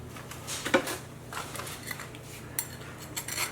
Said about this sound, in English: They come right out of the pans.